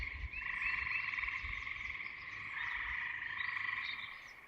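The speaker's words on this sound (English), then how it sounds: "the trilling of gray tree frogs is becoming the dominant sound" Gray tree frogs trill in a continuous, dense chorus on a warm spring evening near a beaver pond, the steady high buzzing trills overlapping and holding at an even, moderately faint level throughout.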